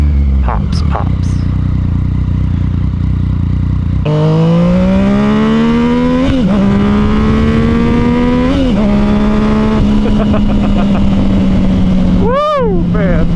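Motorcycle with a flashed ECU revving and shifting at close range, a loud engine tone that climbs and dips with sharp exhaust pops on the downshifts, and wind noise throughout.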